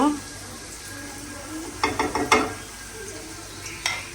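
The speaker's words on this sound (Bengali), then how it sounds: "প্রথমে হলো আমি তেল পেঁয়াজ দিয়ে দিছি হালকা রসুন কুচি ছিল রসুন কুচিটাও দিয়ে দিছি" Onion and chopped garlic frying in oil in a pan for a shrimp curry, giving a soft steady sizzle, with a few clattering stirs of a utensil partway through and near the end.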